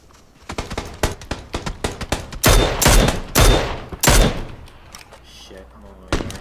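Gunfire in a PUBG-style battle royale match, with a rapid run of sharp shots followed by several heavy, louder bursts and a final report, while players talk over it.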